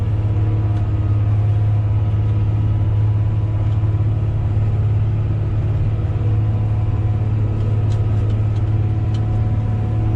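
A heavy EH385C excavator works on a road construction site, its diesel engine giving a loud, constant low rumble close by, with faint metallic clanks now and then and no talking.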